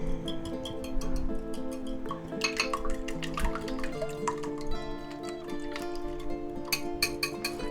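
Eggs seasoned with salt, black pepper and garlic powder being beaten in a bowl, a steady run of quick clinking taps of utensil against the dish with brief pauses, close and clear.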